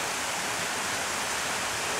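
A rainforest waterfall on St Vincent pours in a steady, dense broadband rush, close and continuous with no pauses or voices.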